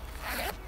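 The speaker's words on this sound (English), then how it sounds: "do the zip up" A single quick zip as the collar of a Hövding airbag bicycle helmet is zipped closed around the neck, close and clear.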